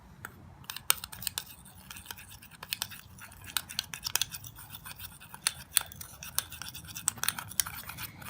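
Vitamin C powder and vitamin E being mixed into a cream paste, giving quiet, irregular scraping and clicking strokes, close up and soft, with no talking.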